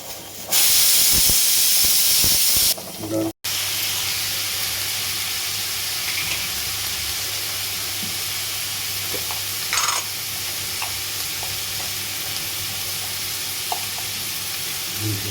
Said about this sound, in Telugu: మినపప్పు, శనగపప్పు, ఆవాలు వేయించి